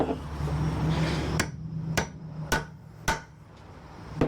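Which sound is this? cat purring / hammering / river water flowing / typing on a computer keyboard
hammering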